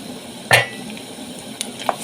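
Ginger, garlic and onions being stirred in a cooking pot, heard as one distinct metallic clink of the utensil followed by a couple of lighter taps over a quiet kitchen background.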